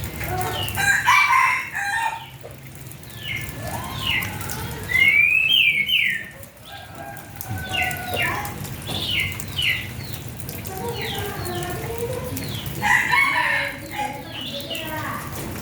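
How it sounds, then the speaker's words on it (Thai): A young fighting cock crows several times, loud and close, with shorter crows and clucks between them and a voice talking in the background. "เป็นเสือไก่ดีนะเสือไก่"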